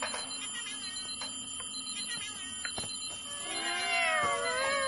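A cat meows in a short burst of rising and falling calls near the end, loud and close, after a stretch of quieter clicks and background noise with no talking.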